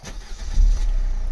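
A car engine starts up, giving a brief loud close rumble that swells as it catches.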